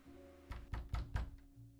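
Three or four dull knocks land in quick succession on a door, moderately loud and close, with a steady low hum underneath and no talking.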